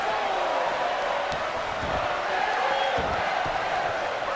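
A wrestling arena crowd in the WWE 2K video game roars and cheers in a steady, dense wash of noise throughout, with a few sharper shouts rising out of the din.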